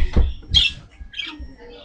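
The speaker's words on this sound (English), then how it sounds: "As you can hear, the parakeets are tweeting." Pet parakeets squawking and chirping indoors in a few sharp, bright bursts separated by short pauses, near and moderately loud against low room sounds.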